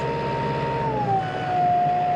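Tractor engine dropping its revs while mucking out on a farm, a steady hum whose pitch slides lower midway and settles, close and continuous.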